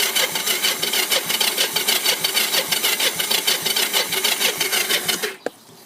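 A cold three-wheeler engine on choke churns and sputters in a fast, even rhythm of repeated chugging pulses, loud and close, then abruptly cuts out near the end with a final clunk.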